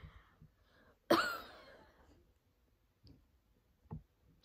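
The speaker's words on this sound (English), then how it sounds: "Don't cough it up." A single sharp, close cough bursts out and trails off with breathy rasp, followed by a couple of faint throat clicks in an otherwise quiet room.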